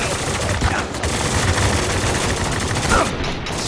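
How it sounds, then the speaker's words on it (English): Gunfire in the video game Spec Ops The Line crackles in a loud, dense fusillade of rapid shots throughout, with voices shouting under the shooting. "Hurry, we're taking heavy fire!"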